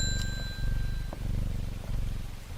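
Soft, steady purring from a petted cat in the game Strange Horticulture, a low continuous rumble with faint chime-like tones at the start.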